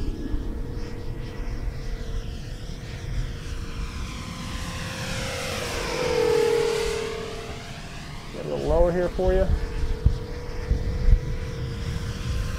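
RC model de Havilland Mosquito twin-propeller airplane flying circles near full throttle, engine drone rising and falling as it sweeps past with a Doppler shift, someone talking briefly over it.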